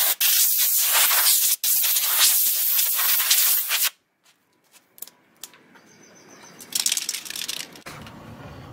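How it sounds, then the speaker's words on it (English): A quarter-sheet sanding block scuffs the finish on new cabinets with steady, close, abrasive rubbing for about four seconds, then stops, leaving only faint handling clicks and light noise. "all you have to do is scuff up the finish just slightly"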